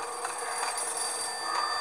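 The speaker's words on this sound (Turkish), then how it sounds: "Telefona cevap ver." Telephone ringing in the video game Max Payne, played on a Toshiba Satellite 1900 laptop: a steady electronic ring sounding continuously over a busy bed of game ambience, fairly loud throughout.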